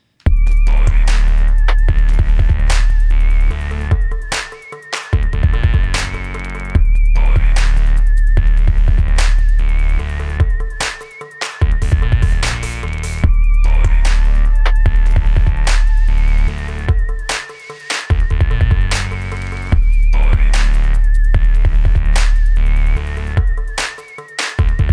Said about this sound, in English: The whistle is just an Ableton instrument. Wind whistler, which consists of, an operator. It's an operator instrument.